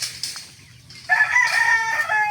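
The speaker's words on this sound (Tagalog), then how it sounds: "Ayan yung ating mga manok guys pag mawala." Backyard chickens in the late afternoon, with a rooster crowing loudly and close by after a few softer clucks and calls from the flock.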